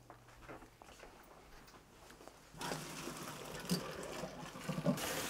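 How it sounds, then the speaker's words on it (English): Water draining off cut onions for a two-onion shrimp dish, a faint trickle that swells into a louder pouring splash halfway through, with small patters near the end. "it's the time to drain the water on this one."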